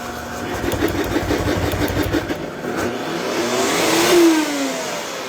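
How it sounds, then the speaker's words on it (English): Blender whipping ricotta in a home kitchen, its motor whirring and rising in pitch as it spins up, loud and close, with no speech. "We're gonna blend the shit out of this for a couple seconds. It's gonna be loud."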